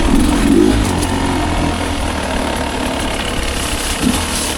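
A Beta 250 Race Edition dirt bike engine runs steadily near at hand, a loud, even mid-pitched drone with no talking.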